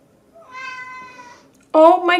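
A cat meows twice nearby: a drawn-out cry followed by a louder, sharper meow.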